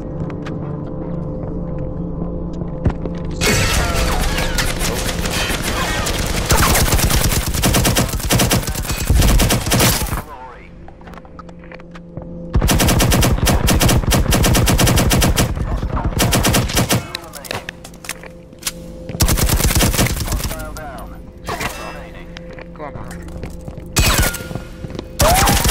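Automatic weapons fire in the shooter game Firewall Zero Hour comes as long, loud, dense bursts of gunfire separated by brief lulls with a background hum.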